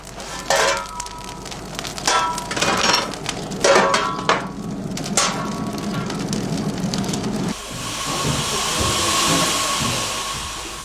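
Steam hisses steadily in the boiler room of a pine resin distillery fired with pine branches and forest debris, broad and fairly loud, with clattering knocks and bangs over it during the first half before the hiss settles into a continuous rush.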